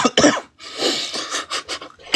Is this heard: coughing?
yes